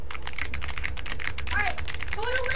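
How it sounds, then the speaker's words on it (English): Rapid, continuous clicking of mechanical computer keyboard keys picked up over a voice-chat microphone, dense and fairly close, with a voice talking faintly underneath. "Unmute your mic and click your keyboard. I just like click every button."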